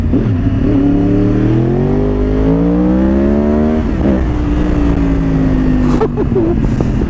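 A Yamaha R1 1000cc motorcycle engine revs up with rising pitch, then holds a high steady whine before easing off, loud and close throughout.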